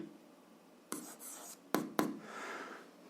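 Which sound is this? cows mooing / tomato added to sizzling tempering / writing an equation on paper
writing an equation on paper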